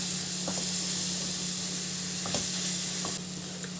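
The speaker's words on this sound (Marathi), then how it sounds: "एक चमचा वेलची पावडर घातलेली आहे आता हे छान मिक्स करून घेऊया" Modak filling with cashews, almonds and cardamom powder is stirred in a hot pan, a constant hissing sizzle with a few soft scraping spoon strokes, close and even throughout.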